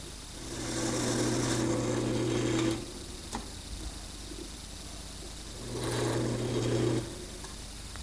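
A wood lathe spins a dowel as it is turned down, with two steady humming runs of the motor and cutting, separated by a quieter stretch with a brief knock, close and unaccompanied by speech.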